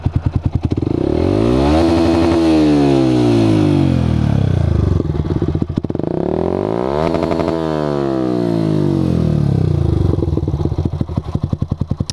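A close, loud Yamaha M-Slaz 150 motorcycle with an Akrapovic-style exhaust revs up and bounces off its limiter in rapid stuttering bursts, twice in a row, then drops back.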